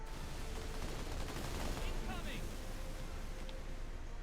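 Video-game gunfire aimed at a Warthog vehicle: a steady, dense rattle of shots fills the whole stretch at moderate loudness, with a faint engine hum underneath.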